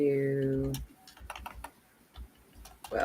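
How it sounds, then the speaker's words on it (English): Typing on a computer keyboard hidden beneath something, a scattered series of soft, close key clicks in an irregular rhythm, following a brief voice at the start. "it's so hard to type with the keyboard hidden underneath there"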